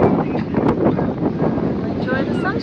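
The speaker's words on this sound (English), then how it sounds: "A bit windy." Steady wind buffets the microphone with a low rumble on a sunny seaside beach, under people talking.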